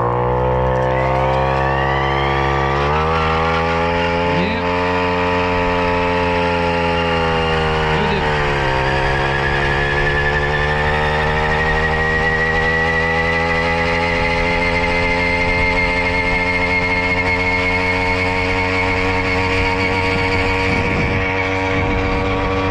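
Tomos moped heard onboard while riding uphill, its engine a steady buzzing drone that climbs in pitch, drops at a gear change and climbs again through two gears, loud and close throughout.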